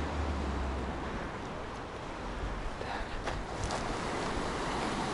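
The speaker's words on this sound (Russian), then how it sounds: "Вот и морешка." Sea waves break and wash over a fine pebble beach at Sochi, a steady surging roar with brief crackling swells and light wind noise, moderately distant.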